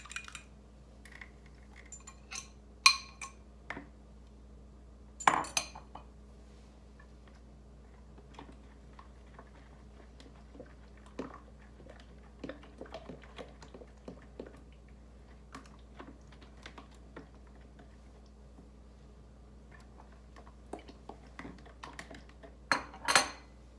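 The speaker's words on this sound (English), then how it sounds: "So here's egg number 1. Go ahead and beat it up before I dump it in there." A utensil beats an egg in a bowl while pumpkin pie is being made, giving scattered light clinks and taps against the bowl. Louder knocks come now and then in a quiet kitchen.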